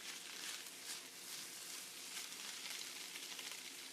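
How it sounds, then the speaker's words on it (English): Shrimp fried rice sizzling in a pan, a steady, faint crackling hiss with no voices over it. "I mean, you need to hear the sizzle."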